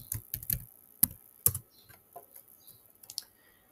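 A password is typed on a computer keyboard: a handful of crisp, close key clicks in an uneven burst, then a few fainter taps in a quiet room.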